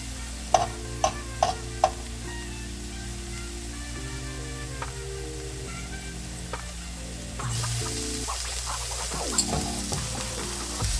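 Bulgogi beef sizzling and browning in a pan, a steady fry with scattered sharp clicks and pops, growing brighter and more intense toward the end; no speech.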